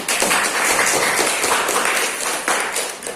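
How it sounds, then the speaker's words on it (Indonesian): A classroom of people clapping together after a group presentation, a dense, steady patter of applause that holds for a few seconds. "Terima kasih Selvi, beri tepuk tangan dulu."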